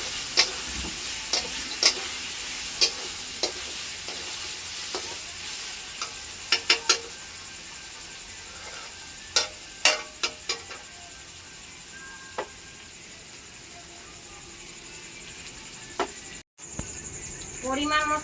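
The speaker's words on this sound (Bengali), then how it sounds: "আমি আলুটা কেটে ধুয়ে রেখেছি, এটা দিয়ে দেব, ভালোভাবে ভেজে নেব।" Cut, washed potatoes frying in a pan, a continuous sizzling hiss broken by scattered sharp clicks of a spatula against the pan, close and steady throughout.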